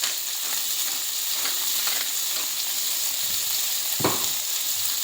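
A salmon fillet seasoned with salt and black pepper fries in a pan, giving a steady, close hiss of sizzling oil with one brief knock of utensil against pan partway through.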